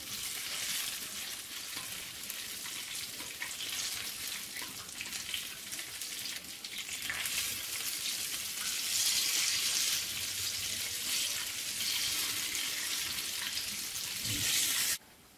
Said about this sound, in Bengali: এগুলা ভাজা হয়ে গিয়েছে, তেলটা একটু উঠিয়ে নেব।